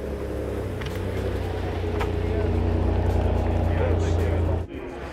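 A Ferrari 599 supercar pulls away at a racetrack gathering, its steady engine drone and low rumble continuing, then cutting off abruptly near the end, with voices talking over it.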